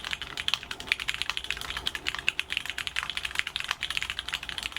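Linear mechanical keyboard switches clatter in a fast, steady stream of crisp keystrokes, close and alone with no voices.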